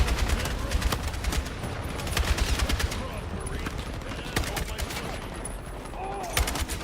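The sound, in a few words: gunfire in Battlefield 6 video game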